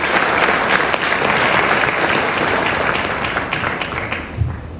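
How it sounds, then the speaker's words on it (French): Loud, continuous audience applause at a talk on African culture and sales, a dense crowd of clapping hands holding steady before easing slightly toward the end, with no voices over it. "Est-ce qu'on peut applaudir pour l'Afrique?"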